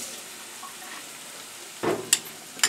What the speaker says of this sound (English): I want to cook the peppers, the onions, and the pear for just a couple of minutes